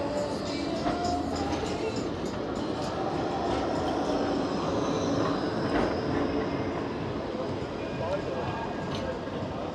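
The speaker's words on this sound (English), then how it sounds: "I just got ding-donged by a tram running across the road there." A tram rolls past across a road in Blackpool, a steady broadband rumble of wheels on rail with clattering filling the scene, mixed with busy street ambience and some talk nearby.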